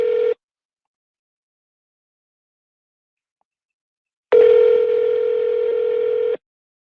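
Phone ringback tone heard while placing a call, a steady electronic tone that cuts off after a moment, then returns after a silent gap for a two-second ring, clear and loud.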